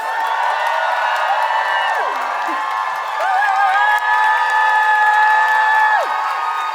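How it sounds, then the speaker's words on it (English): A studio audience welcomes a guest onto a podcast with sustained applause, cheering and whoops, loud and continuous, with a few tonal voices calling out over the clapping. "Can I get a huge round of applause"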